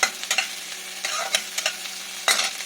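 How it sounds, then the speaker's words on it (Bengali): Chopped tomato added to fried onions in a pan sizzles softly while a spoon scrapes and stirs in a few sharp bursts, close and alone with no voices. "আমি আধটা টমেটো এখানে যোগ করে দিলাম"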